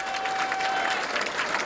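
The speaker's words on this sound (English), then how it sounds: "And applause for Cass." A stadium crowd applauds the Castleford rugby league side at the Halifax v Castleford Charity Shield, steady dense clapping filling the whole stretch at an even level without a break.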